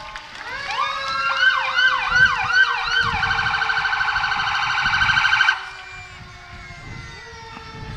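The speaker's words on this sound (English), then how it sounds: "The sirens can be loud." A Kettering Fire Department engine passing in a holiday parade sounds its siren loud and close, rapid rising yelps shifting into a fast warbling wail that stops abruptly, leaving a low engine hum and crowd murmur.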